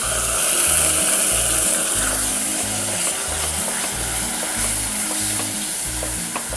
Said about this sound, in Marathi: छान परतून घेऊया आपण